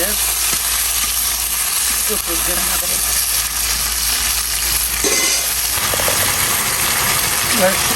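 Turmeric, chili and other ground spices sizzle steadily as they are sautéed with vegetables in a pan, producing a loud, continuous hiss with occasional stirring clatter. A voice talks faintly beneath the frying.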